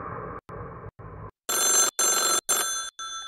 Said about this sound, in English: Okay, I should answer the phone.